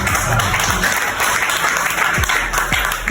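An audience in a hall applauds a VIP partner at a business plan presentation, a continuous wash of clapping at fairly close range with a low hum beneath.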